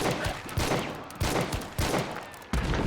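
Rapid LeMat revolver fire in Hunt: Showdown, a quick run of about five sharp, loud shots at roughly half-second intervals, each with a short ringing tail, close and without talk.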